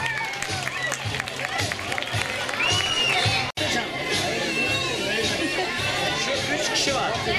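A crowd applauds a school class at a local gathering in Bor, Niğde, Turkey. Dense, steady clapping blends with loud chatter and hubbub and breaks off once near the middle.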